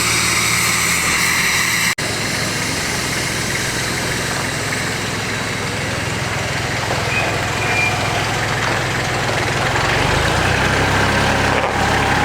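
A Duramax diesel truck engine with a fully deleted exhaust and an added lift pump, idling with a steady, loud, deep rumble close by and no talk over it.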